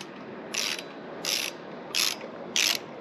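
Hand ratchet driving a screw into the batwing screen cowl of a Honda Rebel 1100 motorcycle, four short clicking bursts at an even pace, close and fairly quiet, with no talk.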